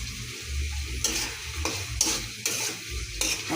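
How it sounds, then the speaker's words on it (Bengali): Tomatoes frying in spiced oil for chicken khichuri, a continuous close sizzle broken by several clattering stirs of a spoon against the pan, about one every half second. "এখন আমি টমেটো দিব"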